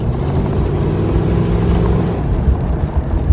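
A Dodge Charger fitted with a new carburetor, driving on a rough road: a loud, steady engine drone with a low rumble that swells slightly as it pulls, heard from close range and without talk.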